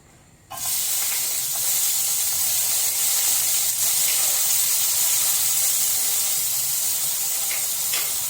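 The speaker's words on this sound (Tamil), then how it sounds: "ஸோ ஃபஸ்ட்டு நம்ம நம்மளோட வெங்காயத்தை போட போகிறோம்." Onions hit hot oil in a pan on a stove while shawarma is cooked at home, bursting into a loud, sustained sizzling hiss after a brief quiet start, with faint crackles scattered through it.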